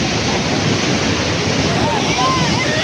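Sea waves wash onto the shore in a continuous loud roar, mixed with gusting wind noise on the microphone.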